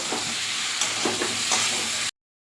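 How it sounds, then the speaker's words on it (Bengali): Fried potatoes and jackfruit being stir-fried in spiced masala in a pan, a steady close sizzle with a few scraping stirs of the spatula, ending abruptly. "এর উপরে দিয়ে দেবো ভেজে রাখা আলু আর এঁচোড়, দিয়ে ভালো করে কষিয়ে নেব"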